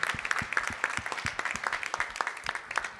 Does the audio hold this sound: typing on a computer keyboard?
no